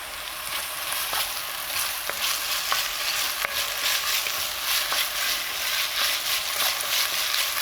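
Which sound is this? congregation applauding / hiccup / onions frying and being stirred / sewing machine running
onions frying and being stirred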